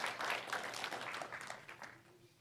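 A church congregation applauds, a dense wash of clapping that is strongest at the start and gradually thins and fades, sounding somewhat distant.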